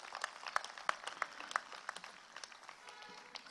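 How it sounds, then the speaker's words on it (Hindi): Audience applause at a crafts fair inauguration with ministers present, a quiet, somewhat distant patter of many hands clapping for a few seconds, with a few sharper individual claps standing out. "एक बार मैं चाहूँगा जोरदार तालियां बजा दीजिए"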